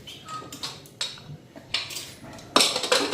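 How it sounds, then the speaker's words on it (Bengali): A metal pressure cooker lid is set onto a cooker holding cabbage, giving a few close clinks and scrapes of metal on metal, the loudest near the end, with no one talking. "এখন এটা প্রেসার কুকারের ঢাকনাটা লাগাই দিই"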